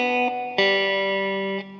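An electric guitar with effects picks out a short phrase of a song, three or four clear notes that ring and sustain over a little under two seconds, alone and fairly loud.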